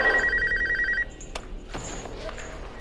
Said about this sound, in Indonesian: Ponsel di lokasi Gordon kembali berbunyi